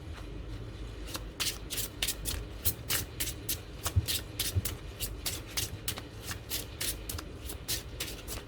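Playing cards being shuffled for a tarot-style card reading, a rapid run of crisp riffling bursts repeating steadily and close up throughout, with no voices.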